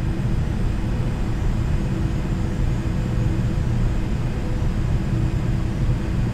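A Douglas World Cruiser airplane engine drones in a flight simulator game, a loud, steady, unbroken rumble that runs throughout with no talk.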